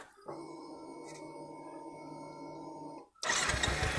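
A Kawasaki Ninja 250 SE motorcycle is switched on: a steady electrical whir with a brief chirp, a short pause, then a louder burst of noise near the end.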